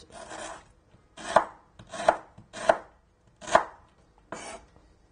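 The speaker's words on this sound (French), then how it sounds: "la citronnelle est émincée" A knife mincing a stalk of lemongrass on a cutting board, six crisp, close chops at an uneven, unhurried pace with brief pauses between, and no talking.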